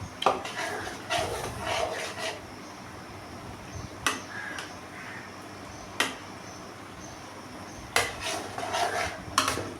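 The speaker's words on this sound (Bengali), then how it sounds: "বারবার নেড়ে চেড়ে মাছের ডিমটাকে খসিয়ে নিতে হবে।" Fish roe being stirred in a frying pan for crispy fritters, with a utensil scraping and clinking against the pan in repeated sharp taps over a steady low sizzle, close by.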